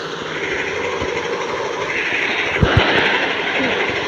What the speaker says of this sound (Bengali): এটা মালবাহী ট্রেন মনে হচ্ছে।